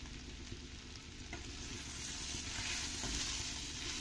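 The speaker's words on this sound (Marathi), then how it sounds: "मी यात 2 टेबलस्पून दाण्याचं कूट घालते" Raw papaya and makhana sabzi sizzles gently in a pan over a very low flame as coarse peanut powder is stirred in, with a soft continuous frying hiss and faint scraping from the spoon.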